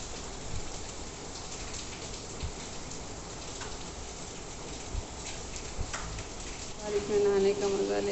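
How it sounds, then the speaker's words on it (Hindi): Light to moderate rain falls outdoors in a steady, soft patter with occasional louder drops, while faint voices murmur in the background. "बारिश तो बहुत तेज हो भी नहीं रही है।"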